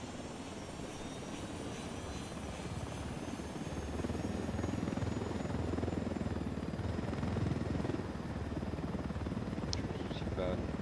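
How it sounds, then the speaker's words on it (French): A helicopter in the video game Ghost Recon Wildlands thrums nearby with a steady, dense rotor chop that grows slightly louder partway through, under faint game ambience. "j'entends l'hélicoptère à côté"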